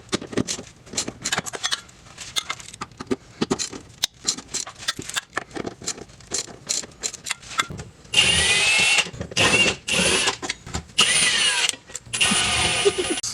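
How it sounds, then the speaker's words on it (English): Repeated bursts of a power tool, likely an impact gun, undoing M12 triple square bolts on an Audi B8/8.5 transmission support bracket; short rattling pulses early, then longer loud sustained whirring runs, up close. "Undo the 4 M12 triple square bolts that are holding the"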